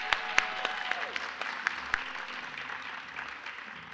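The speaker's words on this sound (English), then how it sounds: "Please give a round of applause for all of our valedictorian and salutatorian recipients tonight." Applause for valedictorian and salutatorian award recipients at a spring graduation ceremony, a steady wash of clapping with several sharp, close individual claps standing out in the first two seconds before it evens out.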